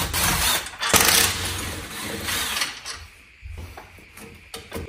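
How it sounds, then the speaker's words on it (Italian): Bolts on the engine support mount of a Hyundai Matrix are loosened with a ratcheting tool, giving close bursts of grinding, rasping metal clicks that fade and return, with no talk. "Adesso andiamo a svitare questi perni, vediamo se viene via tutto il supporto."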